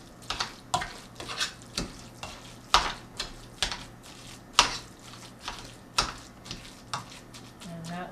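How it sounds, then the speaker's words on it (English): Knife chopping blackfish on a board for fish salad, sharp rhythmic chops about once per second, close and crisp, with no talk. "So you want to keep chopping it until you have a nice, smooth fish salad consistency."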